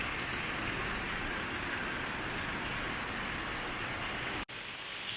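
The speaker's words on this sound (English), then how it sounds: "a very heavy downpour that we have right now" Very heavy tropical rain pours down in the Philippines, a dense steady roar of water that fills the whole clip without a break, with only a split-second dropout near the end.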